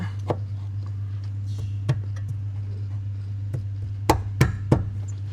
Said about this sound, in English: Hammer your flathead in there